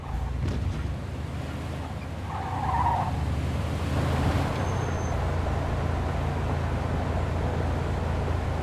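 A car in the Mafia 2 video game rolls through a gate into a yard, its engine a steady low rumble throughout with a brief tire scrub partway, no voices.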